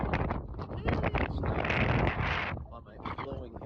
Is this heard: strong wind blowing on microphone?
yes